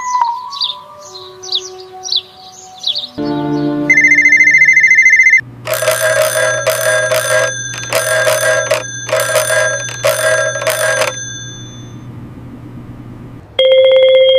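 Electronic telephone ringing in a tense police confrontation scene: chirpy tones and sustained beeps give way to repeated bursts of bright trilling rings in even pulses, loud and close, ending with a final tone.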